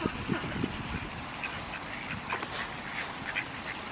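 A group of ducks eating bread quack in a dense, continuous chatter close by, with scattered louder calls and some faint voices in the background.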